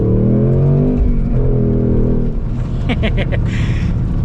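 A 2026 Ford Mustang GT manual's loud, throaty V8 engine roars and revs up, with a deep rumble and crackling bursts as the revs climb, heard close up.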